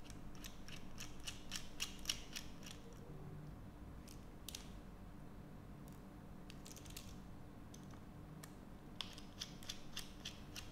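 Small screwdriver turning a star-head screw while taking apart an iPhone 15 Pro Max replica, heard as a faint, irregular series of tiny ratcheting clicks and scrapes, close up and with no talk.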